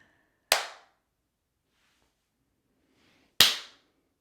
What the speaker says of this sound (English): let's see if the clapping actually turns it off